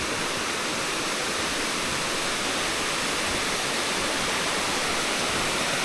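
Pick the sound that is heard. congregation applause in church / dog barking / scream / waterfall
waterfall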